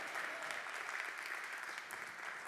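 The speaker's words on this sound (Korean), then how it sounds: "우리 다시 한번 큰 박수 환호해 주시기 바랍니다." Church congregation at an Easter Sunday worship service breaking into steady, dense applause and cheering, a broad continuous wash of clapping filling the room at moderate distance.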